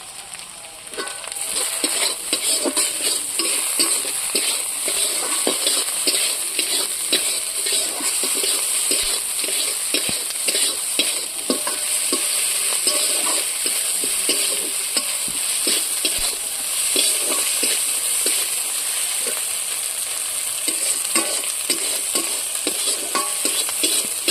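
Mixed vegetables such as carrot, capsicum and onion fry in a pan with turmeric, salt and Kashmiri chilli for a kachori filling. A loud, dense, continuous sizzle runs throughout, with light stirring clicks and no voices.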